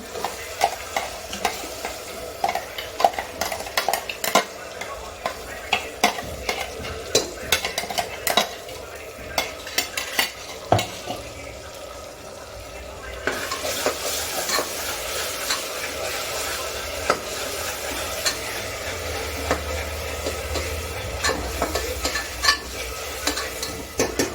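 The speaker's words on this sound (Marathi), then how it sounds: "त्याच्यामध्ये अद्रक लसूण आणि कोथिंबीरची पेस्ट टाकते" Ginger, garlic and coriander paste stirred into a hot pan for chicken biryani, a long stretch of busy spoon scraping and clinking, followed by a steadier, louder sizzle, close and continuous without speech.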